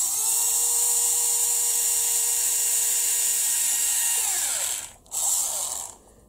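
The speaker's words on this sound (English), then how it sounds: "start with one row of holes and just drill all the way" A small high-speed drill bit whines steadily as it bores a row of holes in a part for a 1/6 scale Pocher Lamborghini Aventador Roadster model, the pitch holding and then winding down near the end, with a brief stop before it spins up again.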